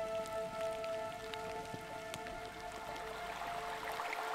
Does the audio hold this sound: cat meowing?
no